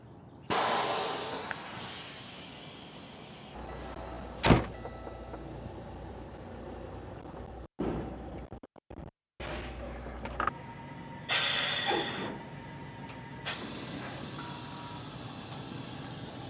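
Air hissing from a semi-trailer as its tandem axles are released and slid apart, several loud bursts of escaping air with mechanical clunks between them, close by.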